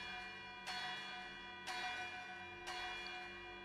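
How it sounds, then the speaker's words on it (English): A bell rings out in three evenly spaced strikes, each ringing tone sustaining and overlapping the next, fairly faint and alone. "like a school bell going off."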